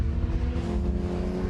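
Saloon race cars on racing tyres accelerating hard out of a hairpin at a Scottish circuit meeting, a brief, fairly distant rising engine roar with harmonic whine.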